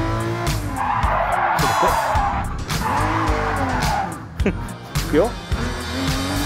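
A race car in Gran Turismo Sport spins out, tires squealing in broad bursts over a steady engine drone, with someone talking throughout.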